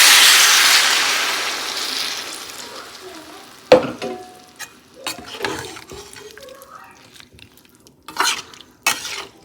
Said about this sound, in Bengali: এবার এর মধ্যে দিয়ে দেবো পরিমাণ মতন জল